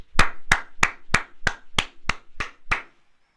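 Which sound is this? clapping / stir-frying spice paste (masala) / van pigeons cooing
clapping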